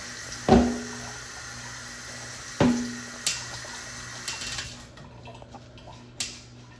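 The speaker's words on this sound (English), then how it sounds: "We are gonna put just a teeny bit of water in there." A teeny bit of water is poured into a container holding butter in a kitchen, heard as a few brief splashes and clinks against a faint background hiss.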